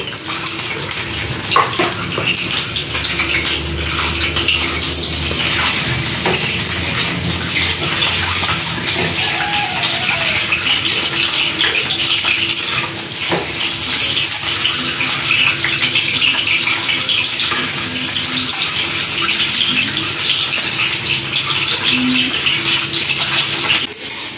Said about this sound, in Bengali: সেদ্ধ করা ডিম হালকা করে ভেজে নেব একটু